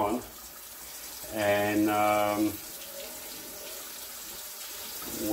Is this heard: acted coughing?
no